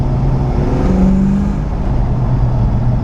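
A supercharged Mustang engine that had been under salt water runs steadily at near-idle with little boost, a loud, constant low rumble close by with no talking.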